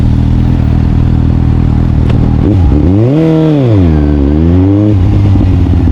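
A loud motorcycle engine drones steadily up close, rising and falling as the rider throttles up and eases off.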